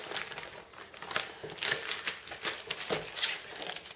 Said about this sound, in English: looks like all of the punch outs in a very large plastic bag